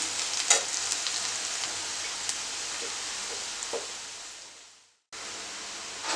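Cooked rice spread in a pan over low heat for chicken fried rice gives a steady, soft, close sizzle that fades briefly, drops out for a moment near the end, then resumes.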